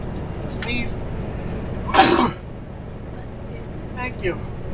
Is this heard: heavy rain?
no